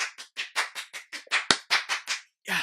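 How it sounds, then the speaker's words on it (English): A woman claps for herself in a quick run of about a dozen sharp, close handclaps with a brief gap near the end, loud and alone. "I give myself a round of applause."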